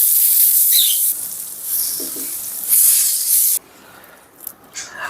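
Butter hisses loudly as it hits a hot stone griddle before beef steak is cooked. The sharp spray-like sizzle drops abruptly to a quieter, fizzing crackle partway through.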